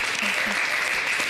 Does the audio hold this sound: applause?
yes